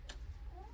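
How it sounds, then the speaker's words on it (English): A kitten crying indoors, one brief faint rising meow near the end over a quiet low background hum. "So sorry if you hear the kitten."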